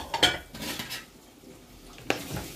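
Chicken being mixed with spices in a bowl for shawarma, a few scattered clinks and wet scraping knocks of a spoon against the bowl, close, with quiet gaps between.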